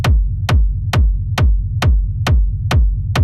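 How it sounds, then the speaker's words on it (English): A heavy techno rumble kick from a plugin preset repeats eight times at an even, quick tempo. Each punchy attack trails into a deep, booming low-end tail that fills the gaps. It is loud and close, with no voices. "it can turn a kick from this into a very big techno rumble kick"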